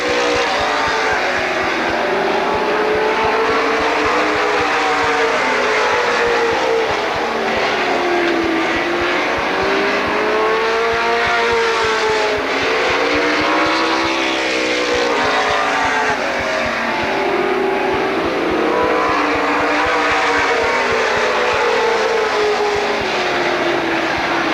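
NASCAR weekly series stock cars race around Lorain County Speedway, engines swelling and fading in repeated passes as the pack laps the oval, loud and continuous with a sweeping pitch rise and fall each time cars go by.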